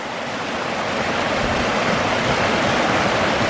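Stoney Creek flows steadily beneath a nearly finished bridge near Bee Bonnet Falls, a broad, constant rush of water that stays close and loud throughout, with no voices.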